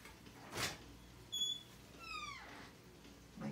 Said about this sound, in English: My kitty's right here.